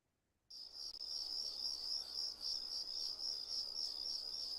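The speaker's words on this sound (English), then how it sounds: "FMV crickets." Crickets chirping at night in an X-Files game scene, a steady high pulsing trill that starts suddenly after a brief silence and continues evenly, faint and with no talking.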